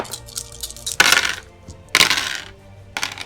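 Dice clatter onto a table in a game of the tabletop wargame Deadzone. Three sharp, bright rattling bursts come close and fairly loud, each tumbling briefly before it settles, with no voices over them.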